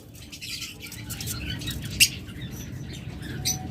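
Pet birds offered for sale, including a DNA-confirmed breeding pair, chirp faintly over a steady background hum, with two sharper, brief calls standing out.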